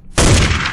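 Gunshot sound effect from a hard trap beat kit: a single loud, close blast that cuts in abruptly and leaves a dense, noisy tail decaying over under a second, with no talk.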